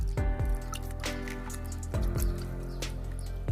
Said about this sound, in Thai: เราจะมาทำการกรองแล้วครับทีนี้ กรองด้วยผ้าขาวบางนะครับ